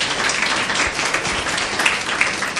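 Sustained applause from an audience at a motivational program on mind reading and memory power, dense steady clapping filling the whole stretch with a few sharper claps standing out.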